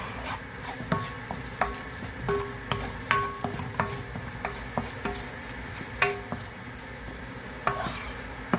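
Onions, garlic granules and meat sizzle steadily in a frying pan while a utensil stirs and scrapes, with irregular clinks against the pan.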